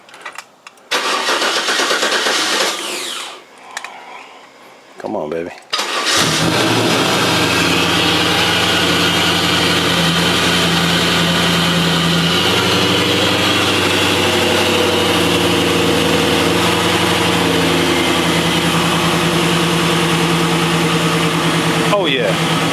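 A Chevrolet 5.7 LS1 V8 with 799 heads, a Z06 cam and full 3-inch Hooker exhaust cranks briefly, stumbles, then fires and settles into a loud, steady, lumpy idle close by, with a short spoken line near the start.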